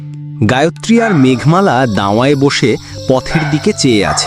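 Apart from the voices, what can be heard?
crickets chirping at night in a cartoon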